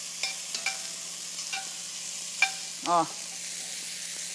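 Vegetables fry gently over lowered heat with caraway seed and a bay leaf, giving a faint, steady sizzle with a few light clicks, while a voice briefly exclaims.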